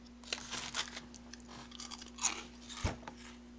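Batman vs Superman cereal crunched and chewed with milk, steady close-up chewing with soft crunches and brief bursts, no talk.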